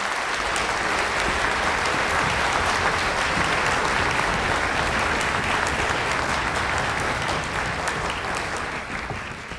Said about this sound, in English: please give the coaches a round of applause because they are fantastic